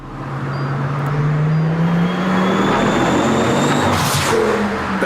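A car engine plays from a video, rising in pitch as it revs and then holding a steady loud drone for about five seconds, with no one talking over it.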